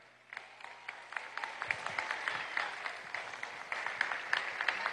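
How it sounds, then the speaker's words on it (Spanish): Crowd applause at a Venezuelan political party swearing-in rally, clapping starting abruptly and swelling into a dense, continuous patter of many hands at moderate distance, with faint crowd noise beneath. "Fuerte aplauso para ella."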